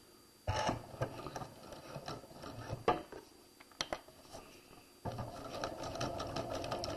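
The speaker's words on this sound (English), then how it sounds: "Make sure that you put your machine back on a straight stitch. We're going to back stitch." Sewing machine back stitching a straight stitch along an elastic waistband casing, with quick bursts of mechanical whirring broken by short pauses and clicks, then a longer continuous run, close and moderately loud.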